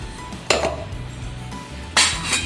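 Boiled potato and soaked sabudana being mashed and mixed in a bowl, with two sharp utensil knocks against the bowl rising above a soft, steady background of scraping.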